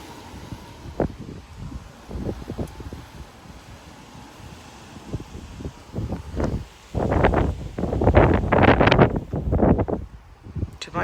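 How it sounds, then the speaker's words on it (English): Strong wind gusts tearing through a backyard tree in Frisco, Texas, rise from a low steady rustle to several loud, surging bursts of thrashing leaves toward the end, with brief sounds of movement near the microphone. "That was a big gust."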